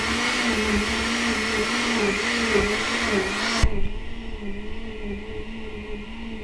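A juicer motor whirs steadily while carrots are pushed through it. The drone is loud and close, with a wavering pitch and grinding texture, and a thump partway through marks a change in the load.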